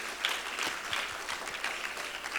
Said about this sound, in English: A big round of applause to all the parents that have given so much and asked for so little.